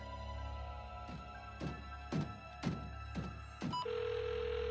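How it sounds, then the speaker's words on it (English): A telephone in a children's cartoon rings in six short, evenly spaced bursts over a steady hum, ending in a sustained electronic tone like a voicemail beep; no talking. "It's Cody's phone. Leave a message."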